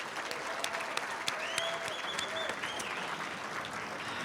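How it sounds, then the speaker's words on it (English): Banquet guests at a softball Hall of Fame induction ceremony give a sustained round of applause, with dense, even clapping filling the hall and no voices over it. "If we could get one more round of applause for our 3 teams being inducted into the Hall of Fame tonight"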